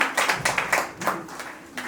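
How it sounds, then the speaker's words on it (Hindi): An audience at a company pre-launch event claps in uneven bursts that swell and fade, fairly close and moderately loud, with little else over the hands. "ये तालियां आपके लिए है, आपके अभिनंदन के लिए है, आपके सम्मान के लिए है"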